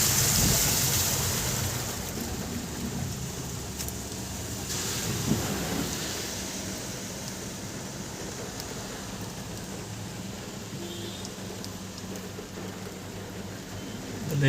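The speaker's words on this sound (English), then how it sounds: "So I wanted to give you the look how it looks when it rains." Rain falling by a large lake near Foreshore Road in Srinagar, a steady broadband hiss of drops with a soft low rumble, constant and even with no voices.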